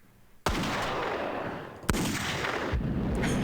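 Gunshots in The X-Files Game: two sharp, loud blasts about a second and a half apart, each trailing into a long echoing decay, with a softer third hit near the end.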